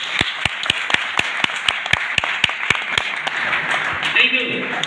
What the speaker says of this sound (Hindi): एक जोरदार ताली होनी चाहिए दोस्तों